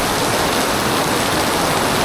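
Heavy rain pouring down at Universal Studios Singapore, a dense, loud, unbroken hiss of downpour with no voices over it.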